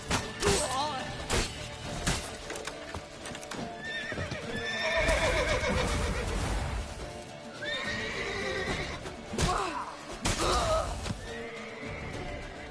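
Horses whinny loudly and hooves clatter in a busy scene from the video game The Witcher 3, with neighs repeating over thumping movement and background effects.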